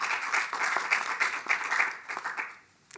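An audience at a university convocation meeting claps for a few seconds, a dense patter of hands that fades out toward the end, heard alone.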